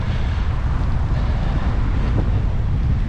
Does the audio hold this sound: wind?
yes